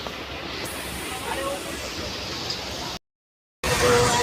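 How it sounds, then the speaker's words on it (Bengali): A passenger train pulls away, heard from inside the carriage as a steady rumbling hiss with a short cutout near the end. "এমনি আবার ট্রেন ছেড়ে দিয়েছে এখন।"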